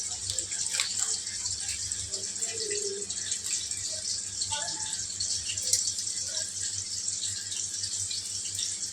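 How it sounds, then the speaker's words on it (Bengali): Milk pours into a pot for payesh rice pudding while cooking for a birthday celebration, giving a continuous liquid splash and trickle. It stays steady throughout, with some faint background sounds. "পায়েসের জন্য দুধ ঢালছি।"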